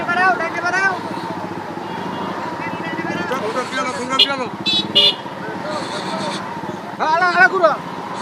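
Cars and motorbikes crawl through a jammed market road in Kapasia, with repeated car horn toots and engine drone, and voices talking nearby over the traffic.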